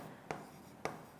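Two quick chalk or marker strokes on a board during a mathematics lesson on tangents and normals, sharp and close, spaced about half a second apart over a quiet background.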